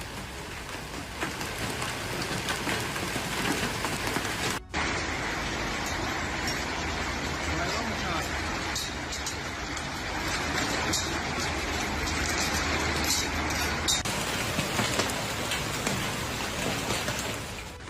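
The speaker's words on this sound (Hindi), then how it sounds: "तुर्की के अंकारा में भारी बारिश।" Heavy rain with hail in Ankara, Turkey, a dense continuous hiss of downpour on surfaces. Faint traffic rumbles beneath it.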